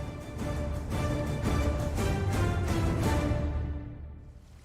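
The Duerna, a small river in León province in northern Spain, rushes in a steady, dense wash of water that holds level for several seconds and then fades away.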